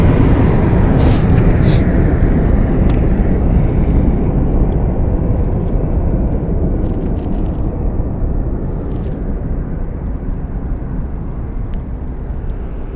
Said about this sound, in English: The next jet up for arrival is going to be Spirit 2521 coming in from San Jose